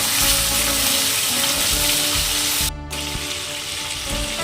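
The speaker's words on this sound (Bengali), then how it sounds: "খুব হালকা করে ভেজে মাছগুলোকে তুলে নেব।" Hilsa fish pieces fry in hot oil for a light cooking with raw banana in a hilsa curry, giving a steady, loud close sizzle throughout with a brief dip partway through and no talking.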